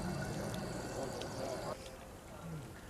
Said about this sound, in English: you put your finger here and the water shoots out the top